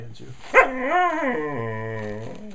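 A dog lets out a long, tuneful howl close by, rising after a short yip and then holding a wavering, drawn-out note as if singing, with no voices over it.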